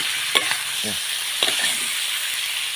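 Pork belly stir-fried in a pan until golden for a Thai salt-and-chili dish: a steady, close sizzle with occasional spatula scrapes and stirring clatter, no voices.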